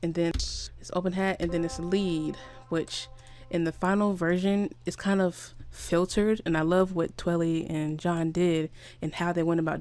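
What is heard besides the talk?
None of the usual background noises is heard.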